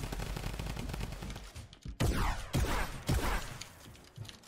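Three heavy, loud shotgun blasts boom out about half a second apart in a shooter video game, each leaving a short ringing tail over a busy background of game noise.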